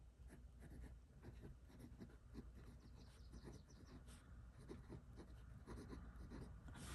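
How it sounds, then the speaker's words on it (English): A Waterman Carene fountain pen scratches across paper in a steady run of soft, close strokes, each stroke short and textured, with quiet pauses between words and no talking. "The nib is nice and smooth, and I am going to definitely enjoy writing with this pen."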